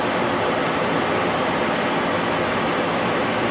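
A ventilation fan roars at full force in a room, a dense, steady rushing hiss with no break or change in loudness and nothing else heard over it.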